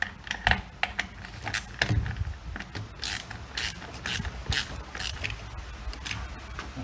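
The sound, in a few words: ratchet tightening a Sea-Doo boarding ladder part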